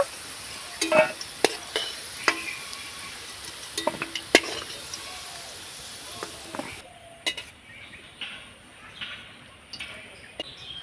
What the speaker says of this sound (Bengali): শুধু তেল দিয়ে আমি ভেজে নেব আলুটাকে